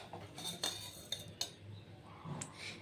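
A spoon scrapes and clinks against a pan while peanuts and dried chilies roast, with several sharp metallic taps over a quiet background and no talk.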